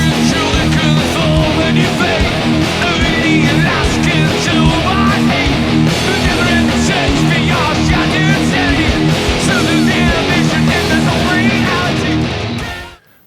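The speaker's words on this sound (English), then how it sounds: "the verses, both guitar playing the same riff, and we have here a gallop thing, followed by straight eighth notes, and also using the power chords" Loud distorted electric guitar plays the verse riff, a galloping figure followed by straight eighth-note power chords, dense and continuous until an abrupt stop.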